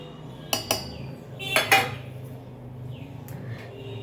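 Pieces of taro drop into a steel mixer grinder jar, giving two pairs of sharp metallic clinks close by, followed by quieter faint clatter with no talking.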